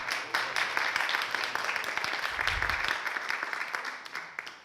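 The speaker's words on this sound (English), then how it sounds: "Let's clap for them one more time." A church meeting crowd applauding steadily, a dense wash of clapping that holds at an even level throughout.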